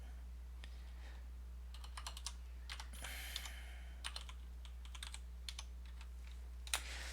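Typing on a CM Nova Touch computer keyboard comes in scattered clusters of crisp keystrokes, near and quiet, over a steady low hum, with no one talking.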